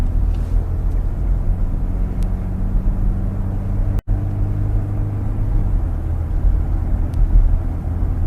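A BMW X3 xDrive30e xLine plug-in hybrid SUV accelerating on a test drive, heard as a steady low cabin rumble and road hum, smooth and even throughout with one brief dropout, no voices.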